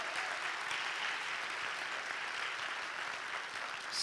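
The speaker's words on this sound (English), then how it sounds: "Please stand up so everybody can give you a round of applause." Sustained audience applause at a live metaverse mastermind event in Oregon, a steady dense wash of clapping from a crowd that holds even throughout.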